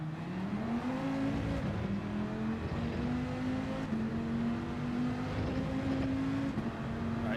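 Race car engine in Gran Turismo 7 daily races holds a steady, loud drone with a sustained tone that rises slightly and dips as the car brakes into a corner, continuous throughout with no talk.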